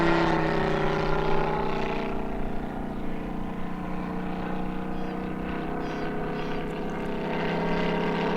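A TopRc T-28 Trojan composite RC model airplane with a UMS 180 engine and propeller drones steadily in flight, a continuous loud buzzing hum with slight shifts in pitch and no break throughout.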